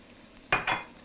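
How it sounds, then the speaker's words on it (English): Sliced carrots and shallots land in olive oil in a pan and sweat there. Two short bursts of sizzle and stirring come close together, then fade quickly over a quiet kitchen background. "So vegetable doesn't need to fry, we just want to sweat it."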